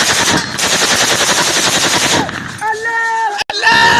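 Gunshots amid insecurity in Edo state: a sustained, loud rattle of rapid automatic fire for about two seconds, then a tonal siren-like wail and a sharp cut.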